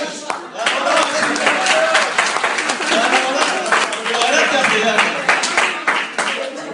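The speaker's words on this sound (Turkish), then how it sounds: "Onu da bir alkış" Warm applause from a gathered crowd at a mosque in Duisburg, honouring a guest: steady, dense clapping from many hands that runs unbroken for several seconds, with faint murmuring underneath.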